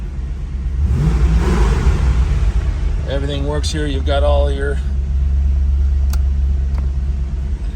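A red 1988 Chevrolet Corvette coupe engine runs at a steady idle, a low, even rumble that lasts throughout while someone talks close by over it.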